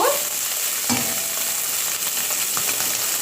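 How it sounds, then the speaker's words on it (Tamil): Small-cut beef frying with chopped vegetables and salt in a pan gives a loud, continuous close sizzle with occasional stirring scrapes and clinks, no speech. "எல்லாம் சேர்த்துக்கொள்வோம் கொஞ்சம் இது நல்லா ஃப்ரை பண்ணிடுங்க"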